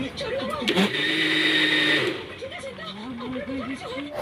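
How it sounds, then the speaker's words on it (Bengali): An electric mixer grinder whirs loudly for a short burst while blending mangoes with milk for homemade ice cream, rising and cutting off, with a person talking over and after it. "তারপরে আমি ঢাকনা দিয়ে দিলাম তো চল এবার মিক্সি করবো"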